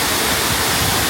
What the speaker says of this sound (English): this waterfall and this river